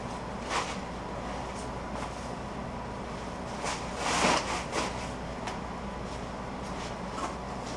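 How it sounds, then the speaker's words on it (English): A dehumidifier runs constantly in a basement workshop, giving a steady, even whooshing hum with one brief louder swell partway through. "I keep the dehumidifier in the basement running all the time to keep my tools from rusting."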